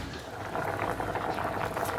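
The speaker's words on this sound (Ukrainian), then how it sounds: "ви ж не чуєте, що кипить" A pot of buckwheat bubbles and simmers at a steady boil close by, a continuous watery gurgle with no pauses.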